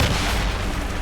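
Heavy ship cannon fire in Assassin's Creed Rogue, a continuous dense rumble of booming blasts with no clear gaps, loud and close.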